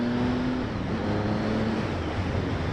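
A Triumph Speed Triple R motorcycle rumbles steadily on the move, a continuous low exhaust drone mixed with broadband road and wind rush, with a faint engine tone wavering slightly.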